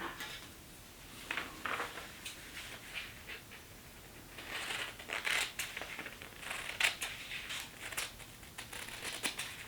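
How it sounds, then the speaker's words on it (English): A paper sewing pattern for children's shorts is cut out with scissors: faint, quiet snips and light paper rustles come in scattered bursts, growing more frequent in the second half, with no speech. "Now I'm going to cut it out."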